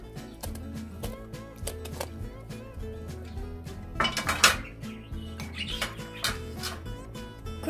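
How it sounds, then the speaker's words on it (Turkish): Fresh apricots and their pits go slowly into a pot of syrup while jam is made, with soft clinks and clatters of metal, dishes and utensils scattered through a steady kitchen background. "Şöyle yavaş yavaş içerisine ilave ediyorum kayısılarımı."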